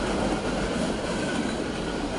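A train rolling along railroad tracks, a steady loud rumble with wheel noise filling the whole moment, close by and continuous.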